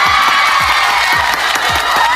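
A crowd cheers and whoops loudly and continuously, with repeated low thumps pulsing underneath at a steady rhythm.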